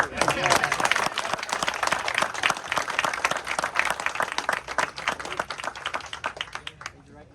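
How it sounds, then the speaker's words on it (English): A room of guests at a US Air Force promotion ceremony for a first lieutenant claps in dense, crisp applause that holds steady for several seconds, then thins and fades out near the end. "All right, round of applause for Dale."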